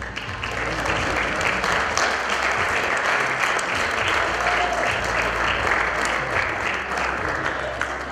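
Loud, sustained applause from a party audience at a quinceañera celebration, steady clapping filling the room from start to finish with crowd noise underneath.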